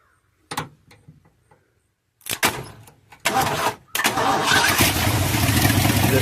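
An engine started by bridging the starter with a wrench after a pump of gas: a few clicks and brief cranking bursts, then it catches and settles into a loud, steady close-up run.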